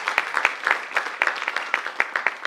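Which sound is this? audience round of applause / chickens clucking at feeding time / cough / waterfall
audience round of applause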